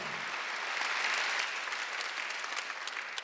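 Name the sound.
congregation applause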